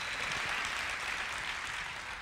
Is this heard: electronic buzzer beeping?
no